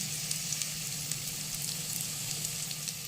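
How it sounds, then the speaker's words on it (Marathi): Kothimbir vadi, coriander fritter pieces, shallow frying in a pan, giving a steady, even, close sizzle with a faint low hum underneath and no voices. "असं आपण शॅलो फ्राय करून घेणार आहे वड्या, हलका हलका"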